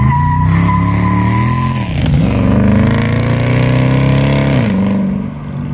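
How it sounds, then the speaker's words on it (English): A Dodge Charger ute pickup conversion, a modern hot rod, roars through a loud burnout, engine held at a sustained high rev with brief dips before the sound fades at the end. "as you can see from the burnout there, this is definitely a modern hot rod"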